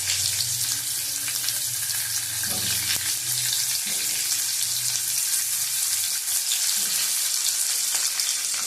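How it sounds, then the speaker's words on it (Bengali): Loud, continuous sizzling of vegetable stalks frying in hot oil with panch phoron, close up and steady, with a few soft knocks from stirring and no talking. "ভালো করে ভেজে নেব"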